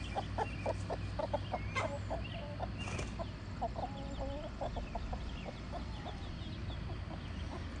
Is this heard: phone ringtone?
no